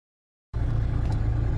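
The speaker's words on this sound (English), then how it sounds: "If my car wasn't so loud" Steady, loud low rumble of engine and road noise inside a car cruising on a long highway drive home, starting abruptly after a brief silence and holding constant.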